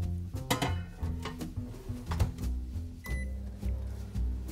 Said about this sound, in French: nous allons passer notre hamburger au micro-ondes pendant 1